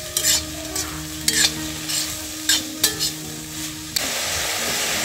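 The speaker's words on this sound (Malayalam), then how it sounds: "മസാല ഉണ്ടാക്കാനായിട്ട് സവാള ഒന്ന് നന്നായിട്ട് വറുത്തെടുക്കണം" Onions frying in a pan for a Kerala-style chicken masala, with a steady sizzle broken by several sharp scraping stirs; the sizzle swells louder and more even near the end.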